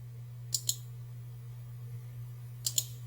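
Two quick pairs of sharp computer mouse clicks, about two seconds apart, sound close and crisp over a faint steady electrical hum.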